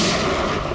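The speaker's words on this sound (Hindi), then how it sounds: "एक काम करो पंकज, मुझे कवर करो और फायरिंग करते रहना।" Continuous heavy gunfire, dense overlapping bangs with a rumbling wash underneath, loud and sustained with no pauses.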